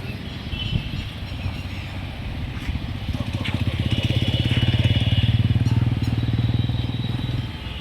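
A motorcycle engine idles and putters nearby during rider training, its steady pulsing exhaust rising and falling as the bike creeps along and revs lightly, with faint background noise.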